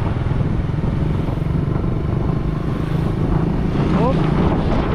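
A Yamaha motorcycle under way on a road in the Philippines, its engine droning loud and steady from start to finish, swelling slightly near the end, with wind rush and no clear talk.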